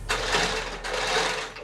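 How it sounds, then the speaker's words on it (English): A sewing machine stitches fabric for a box pleat skirt, running as a steady, close mechanical whirr across two continuous bursts with a short dip between them. "this machine doesn't seem to be doing a bigger stitch"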